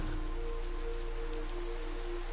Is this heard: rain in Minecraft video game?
yes